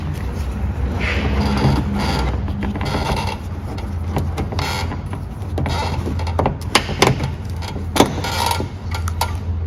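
A pry tool works at a plastic trim clip around the trunk light of a Ford Fusion, giving close creaks, scrapes and sharp clicks that build to a snapping pop near the end.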